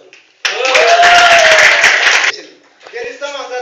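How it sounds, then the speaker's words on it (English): A short burst of audience clapping for Solomon lasts about two seconds at close, loud level, with a voice speaking over it and again once the clapping stops. "once applaud for Solomon."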